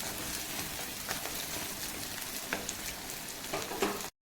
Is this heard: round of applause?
no